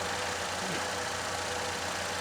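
Chevrolet Equinox engine with an intermittent power loss, idling as a steady dense hum with a faint broadband hiss, constant and unchanging throughout, no voices.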